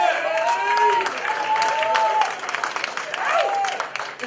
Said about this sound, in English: one more round of applause for Velly Bell